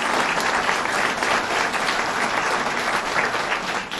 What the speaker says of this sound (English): Give Senator Maziarz a warm round of applause.